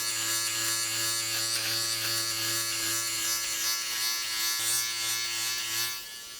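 An AGARO beard trimmer with its shaver attachment buzzes steadily at close range, with a constant motor hum that shifts slightly as it moves across the skin, then softens at the end.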